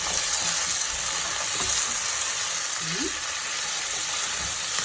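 Vegetables for sweet and sour chicken are stir-fried in a hot pan, with a loud, dense, steady sizzle and a few faint scraping strokes underneath, close by and without clear speech.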